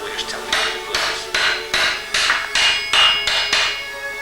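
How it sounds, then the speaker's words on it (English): A hammer taps a clog iron onto a clog sole resting on a stither, with about eight steady, evenly spaced metallic knocks ringing close and clear, no talking. "We rest the sole on the stither and we just tap it into place."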